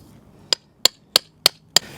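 Five sharp, evenly spaced metal-on-metal strikes as a stake is hammered through a loop to peg down the snow skirt of a 1994 Octa gazebo tent; close and alone, with quiet gaps between blows.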